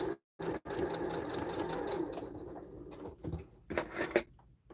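A sewing machine bastes fabric for a sling bag, stitching in a rapid chattering run after a brief start-stop, then pausing and resuming in shorter bursts, close and moderately quiet.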